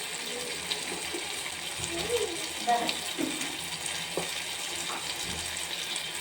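Water pours into a pan of bottle gourd and dried prawn curry with a close, gurgling splash and trickle, and a few louder bursts in the middle of the pour.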